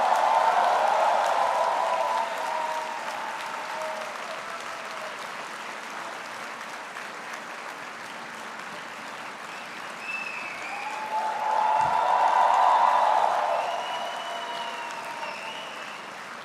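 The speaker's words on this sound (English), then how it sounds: "give them a very big round of applause and the loudest possible cheer" A graduation ceremony audience in Hyderabad breaks into sustained applause and cheering, a dense wash of clapping from a large crowd that eases slightly then swells again before fading.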